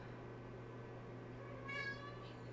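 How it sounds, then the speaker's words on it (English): A male pet cat gives one short meow near the end, close and clear, over a steady low electrical hum with no talking. "There's my cat, even though he did just go out and he also did just eat"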